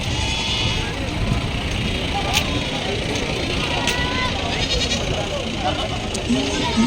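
Goats bleat now and then amid a dense, noisy crowd murmur, with people talking and vehicle rumble throughout an outdoor goat market in Maharashtra, India.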